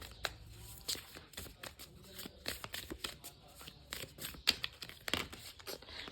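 Tarot cards being shuffled close by: repeated crisp riffling and flicking bursts in an uneven rhythm, with papery slaps as cards drop, and no talk.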